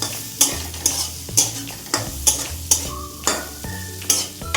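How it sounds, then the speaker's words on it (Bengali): Whole garlic cloves fry in hot oil in a pan, giving a steady close sizzle broken by sharp, regular scraping strokes of a spoon stirring about twice a second. "রসুন কোয়াগুলিও দিয়ে দিলাম, একটু ভাজবো"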